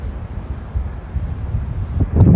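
Wind buffets an outdoor camera microphone at a Philadelphia street camp, a low constant rumble that swells into heavier gusts at the end.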